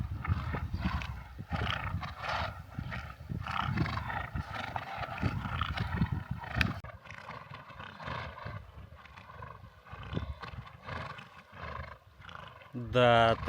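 Horses swim and splash across a river in a continuous churning wash of water, with low rumbling and a brief whinny-like sound near the end, while people talk over it throughout.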